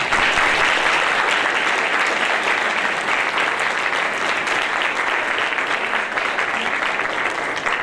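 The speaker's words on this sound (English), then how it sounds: "Let's give them a round of applause." A crowd at a boutique fashion show breaks into sustained, dense applause for the models, a loud, steady wash of many hands clapping without a break.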